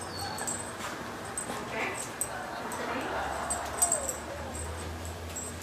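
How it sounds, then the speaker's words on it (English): Catahoula leopard dog whimpering in soft, thin whines amid quiet background noise, with a brief word spoken nearby. "That's a Catahoula leopard dog, and she's got, you know, the courage of 5 dogs."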